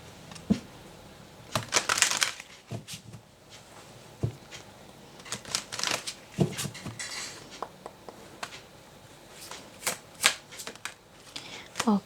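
Oracle cards being shuffled during a Gemini tarot-style reading, a run of crisp riffling and slapping bursts spread across the stretch, some louder snaps, with talking in between.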